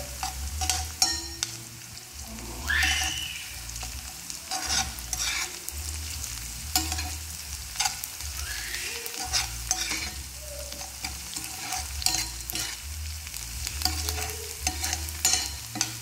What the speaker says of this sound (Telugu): అల్లం వెల్లుల్లి పేస్ట్ అయితే వేసుకున్నాము. దీన్ని కూడా ఒకసారి కలుపుకుందాం.